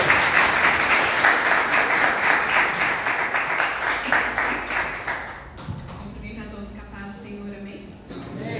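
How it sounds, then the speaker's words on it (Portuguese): A church congregation breaks into loud, full applause that holds for about five seconds, then cuts off abruptly, leaving quieter room sound with faint tones and a voice. "Aplauda o Senhor em gratidão."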